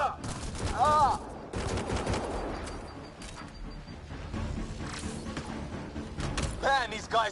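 Sustained weapon fire in the Mass Effect Andromeda video game, with dense overlapping shots and impacts through most of the stretch, along with whooshing effects and shouted combat voices in the mix.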